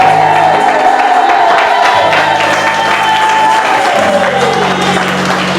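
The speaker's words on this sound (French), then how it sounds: "est-ce que vous pouvez acclamer pour Pasteur Georges?" A church congregation at an evangelical service claps for a pastor: dense, sustained applause with scattered cheers and whoops, loud and close, with a steady musical tone sounding underneath throughout.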